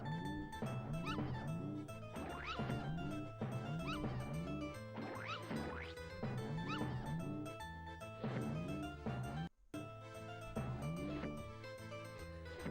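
Puppies yipping, barking and whimpering in the video game Earthworm Jim 2, a steady run of high, repeated yaps over game music, loud and continuous with a brief cut near the end.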